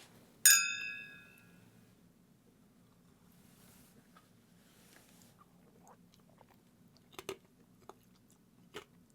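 A piece of ice from a cocktail gets one sharp, close crunch at the start, followed by quiet stretches with a few faint clicks and small crackles.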